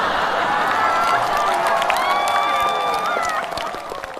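A studio audience at a Chinese stand-up comedy show claps and cheers, a steady wash of applause with a few whoops rising over it before it fades slightly at the end.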